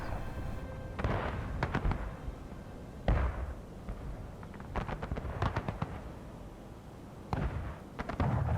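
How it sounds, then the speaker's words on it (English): Artillery fire from Union guns in a 280-player Maryland Campaign multiplayer battle game at night, a steady series of booming cannon blasts and sharp cracks, some near and some distant, overlapping with no talking. "Very good artillery shots from the Union."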